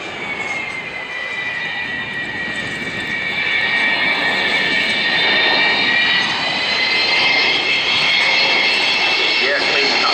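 Avro Vulcan XH558 with its old, smoky turbojet engines roars through a display flight at Dunsfold, a loud sustained howl with a rising whine, swelling slightly as the bomber passes, a commentator's voice running beneath.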